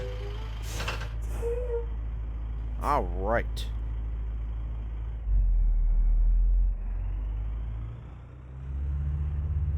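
A Volvo Legacy truck in American Truck Simulator backs onto a trailer, with a steady low engine rumble throughout, a couple of air brake hisses, a rising revving swell midway and a heavier throttle surge near the end, while someone talks briefly.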